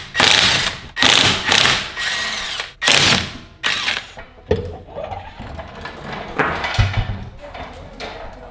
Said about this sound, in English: So we gotta pull up the fender liner, pull off that little heat shield, and then we can get access to it.